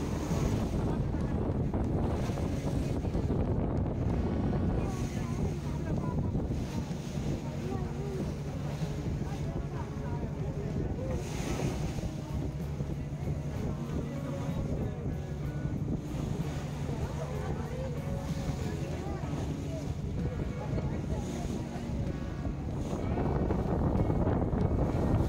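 Steady wind buffets the microphone as a boat rides over sea waves off Rameswaram, with a constant low engine drone and water splashing against the hull throughout, loud and unbroken.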